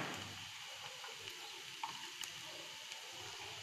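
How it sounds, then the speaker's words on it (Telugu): Carrots fry with onions and curry leaves in a pan, giving a faint, even sizzle with a few light clicks of stirring and no talk. "క్యారెట్ వేసుకుంటున్నాను."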